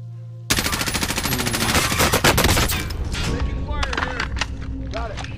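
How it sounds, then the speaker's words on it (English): A rapid burst of automatic gunfire in a video game starts abruptly and rattles loudly for several seconds. Sparser shots follow, and players talk over the shooting. "My gun just shot by itself."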